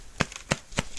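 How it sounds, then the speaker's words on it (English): Three quick, light plastic knocks of headset parts hitting together, spaced evenly apart, close and fairly faint. "That's the sound of my headset hitting together."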